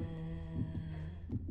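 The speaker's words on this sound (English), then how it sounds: "it looks like the heartbeat. I hear the heartbeat." A low, steady heartbeat thumps a few times over a droning hum in the Little Nightmares video game, repeating in a slow rhythm with no one talking.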